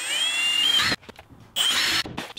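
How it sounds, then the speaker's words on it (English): A power drill whines at high speed drilling a hole in wood, stops briefly, then revs up again for a second burst, close and loud. "I'm just gonna drill a hole for the corners"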